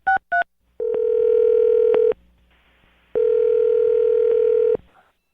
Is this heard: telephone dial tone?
yes